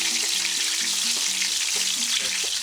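Vegetable patties fry in a hot pan with a steady, dense sizzle heard close up and unbroken throughout, while a faint low melodic tone runs underneath.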